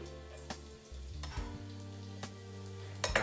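Chopped garlic sizzles in hot rapeseed oil in a pan, a soft steady frying hiss under a low hum, with a few brief clicks and scrapes of stirring near the end.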